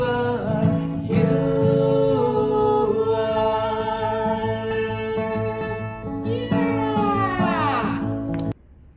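A drawn-out, wavering meow-like cry sustained for several seconds, cutting off abruptly at the end; loud and close, with musical tones underneath.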